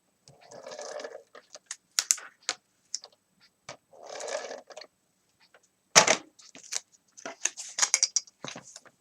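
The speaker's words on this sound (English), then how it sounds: "we will just tape it down" Tape is pulled and pressed down to secure a paper corner pocket in a handmade mini album, heard as close crackling rips of tape alongside sharp taps and small clicks in an otherwise quiet space.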